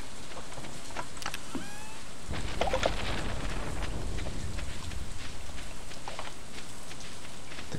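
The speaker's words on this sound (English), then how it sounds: "Oh, it's raining." Rain falling in the video game Stardew Valley, a steady hiss of rainfall with scattered drops and a low rumble swelling midway, with brief chirping sounds early on.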